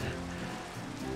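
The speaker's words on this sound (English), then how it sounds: "now it's a nice rainy night, evening" Rain falling on a night in Minecraft, a soft, even patter of raindrops on surfaces that holds steady and fairly quiet throughout, with no one talking.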